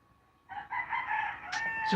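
A rooster crows loudly and close by in the Philippines, one drawn-out call with no talking.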